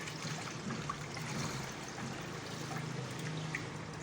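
Cooked sandal sharbat is poured through a strainer, making a faint, steady trickle of liquid that runs continuously with no talk over it.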